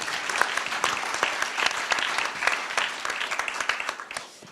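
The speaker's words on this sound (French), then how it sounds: "Karine, une SIC, ouais, vous pouvez applaudir." An audience at a regional congress round table for SCOP and SCIC cooperatives in PACA applauds, a dense, steady wash of many hands clapping for several seconds in a large room.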